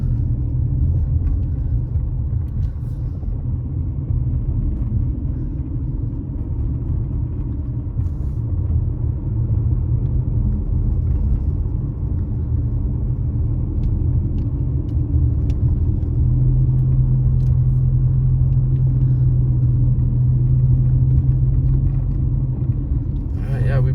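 A car driving through Fawnskin in Big Bear, a continuous low road and engine rumble heard from inside the cabin, steady for the whole stretch.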